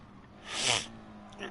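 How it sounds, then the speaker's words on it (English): A single close sneeze, a broad burst that swells and fades within about a second, during a GT Sport racing session, with a faint steady hum beneath and a brief small noise just after. "That sneeze sort of hurt me."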